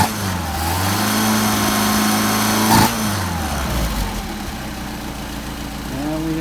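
Engine fitted with Solex 44PHH carburetors running near the microphone, its throttle blipped for a sharp rev around the midpoint before settling back to a steady idle, with a smaller rise near the end.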